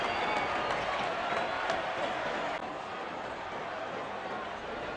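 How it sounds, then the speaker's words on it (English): A large crowd at a Big Bash cricket match, Melbourne Renegades against Hobart Hurricanes, roars and cheers in a dense continuous wash, easing slightly midway, with a commentator's voice faintly underneath. "the crowd cheering in anticipation"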